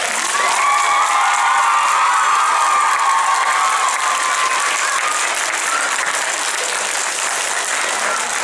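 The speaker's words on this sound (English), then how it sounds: "let's clap for our parents" Dense, steady applause at a fifth grade honor choir concert, with cheers and children's shouts rising through the clapping.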